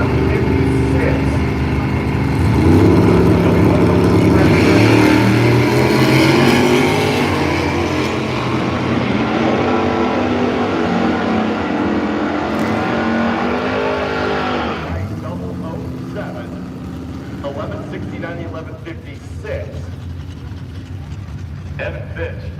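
Race cars roar at Firebird Raceway in Idaho, loud engines rising and building then fading away, with an announcer's voice heard alongside.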